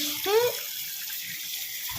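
Water runs from a tap while a cooking pot is prepared, a soft steady stream with a brief rising pour near the start, fairly quiet and without talk.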